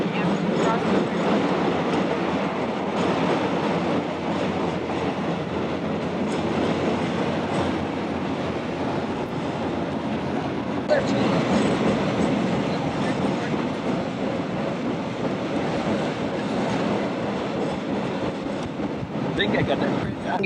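A passenger train runs steadily on rails, its continuous loud rumble carrying a faint clickety-clack heard from inside the car, while voices murmur faintly in the background.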